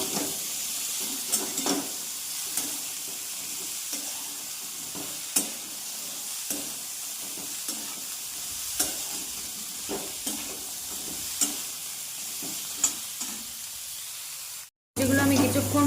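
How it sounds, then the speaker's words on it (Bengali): Beans, potatoes and peas frying in a pan for a dalia khichuri, a steady close sizzle broken by repeated scraping stirs, ending abruptly with a brief cut. "শিম, আলু, একটু ভেজে নেব মশলা দেওয়ার আগে।"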